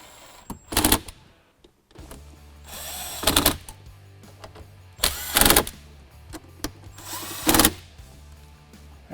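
Power tool driving bolts in a Jeep Wrangler JK during a Stinger Heigh10 install, heard as four separate loud whirring bursts of a few seconds each, spaced between quieter handling noises, close up.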